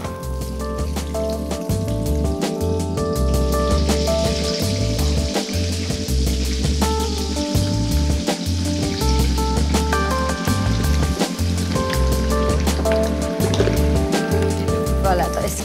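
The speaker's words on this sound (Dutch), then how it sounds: "Ik ga eventjes in de friteuse bakken. 180 graden, 3 à 4 minuutjes." Spring rolls deep frying in oil at 180 degrees in a home fryer, a continuous close bubbling sizzle with steady crackle, accompanied by background music throughout.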